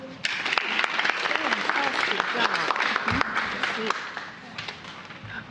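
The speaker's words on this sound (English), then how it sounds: "Give her a big round of applause" Applause from a crowd at a Washington, D.C. event with the mayor, sustained clapping filling the room for several seconds, with some voices mixed in.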